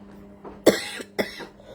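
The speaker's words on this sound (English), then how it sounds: "now there's a cough" A person coughs twice, close up, with two sharp harsh bursts about half a second apart, each trailing off quickly, over a quiet room.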